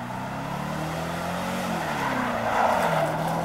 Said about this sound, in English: A bit quieter, but still plenty of power, plenty of smoke coming off those tyres.